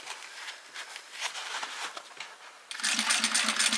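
A sewing machine stitches fabric for a bowl cozy, soft irregular handling at first, then the motor starts up into a steady rapid whirring hum that runs to the end, close and moderately loud.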